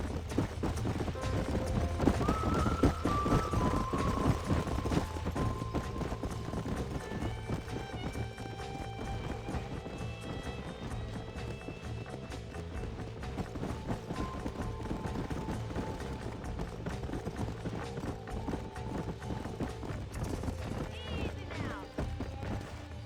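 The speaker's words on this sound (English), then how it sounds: "These are fine horses." Hooves clip-clop steadily as several horses move on a ranch in the video game Red Dead Redemption, with an occasional whinny rising above the clatter and a voice speaking at times.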